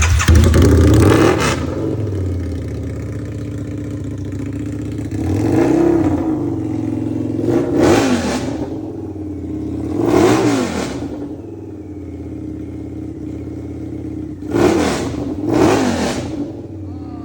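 A rare V-Rod Destroyer, a factory-built Harley drag bike, is revved hard several times, with sharp bursts rising over a loud rumbling idle close by, and people talk underneath.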